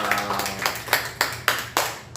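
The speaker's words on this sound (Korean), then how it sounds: "우리 하나님께 영광의 박수 올려드리도록 하겠습니다" At the close of a church service the congregation claps in unison for God, a slow, even rhythm of about eight sharp claps over a low background hum.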